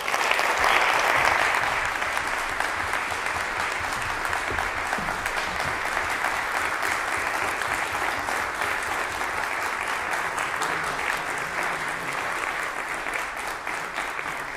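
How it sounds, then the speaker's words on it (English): A conference audience at a digital summit gives dense, steady applause after a speech, a continuous wash of many hands clapping that holds for the full stretch without talk. "This is definitely a well-deserved applause."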